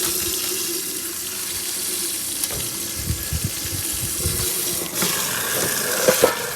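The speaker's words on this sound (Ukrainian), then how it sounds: "Тут хай вода добирається" Water runs steadily from a tap, a continuous hissing splash with occasional brief knocks and clatter close by.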